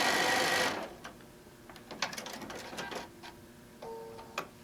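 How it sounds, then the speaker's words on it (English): A sewing machine stitches a straight seam on an apron made from a fabric panel, a brief close whirring burst at the start, followed by quiet scattered ticks and clicks of the machine and handling. "we're going to go to our straight stitch, and we're just going to sew"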